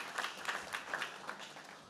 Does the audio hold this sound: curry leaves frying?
no